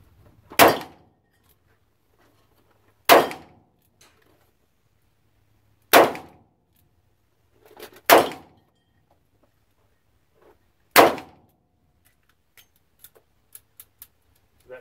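Ruger LCR and Taurus .38 revolvers firing outdoors: five loud, sharp reports spaced a couple of seconds apart, then a few light metallic clicks.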